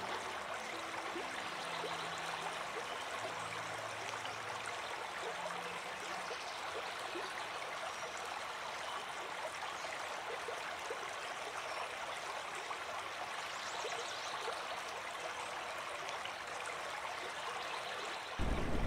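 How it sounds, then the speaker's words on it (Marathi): A small stream in rural Konkan babbles and trickles steadily, an even, unbroken wash of flowing water with no voices. "पायाला पाण्याचा गार गार स्पर्श होऊ द्यावा आणि पाण्याचा खळाळ ऐकावा"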